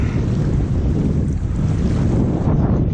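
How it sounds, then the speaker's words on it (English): Strong wind blows across Waranga Basin lake at twilight, a loud, constant roar of buffeting air on the microphone that persists alone throughout. "The wind is blowing straight into my face."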